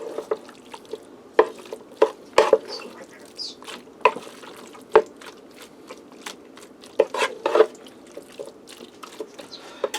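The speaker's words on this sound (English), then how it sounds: "Stir that in." Sliced pre-cooked kielbasa sausage stirred into a hash brown casserole, with a spoon scraping and clacking against the cooking pot and moist squelches, in irregular bursts close up.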